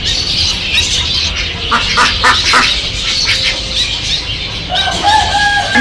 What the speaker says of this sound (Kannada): ಇಲ್ಲಿ ಬಾತುಕೋಳಿ ಇದೆ